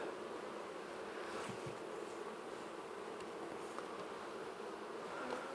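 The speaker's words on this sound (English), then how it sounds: "Nicely tempered bees, which is good." A dense, continuous buzz of many calm honey bees at a hive during swarm collection, steady and close throughout, with a few faint knocks and clicks in the mix.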